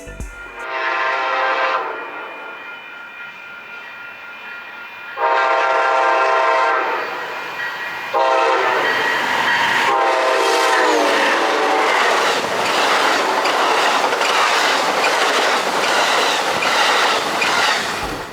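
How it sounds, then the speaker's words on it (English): A southbound Pacific Surfliner passenger train rumbles past close by with steady rolling clatter, its horn sounding in long blasts several times. "The next train would be the southbound Pacific Surfliner train."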